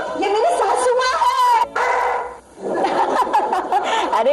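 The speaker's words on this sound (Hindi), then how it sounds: "अरे भौंक मत" Velvet, a pet dog, barks and yips in a busy household scene, loud and close, with a voice and chuckles running over and around the barking throughout.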